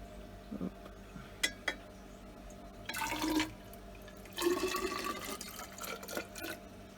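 Water splashes and pours onto bromine tablets in two bursts, with light clinks and drips between them, fairly close and moderately loud.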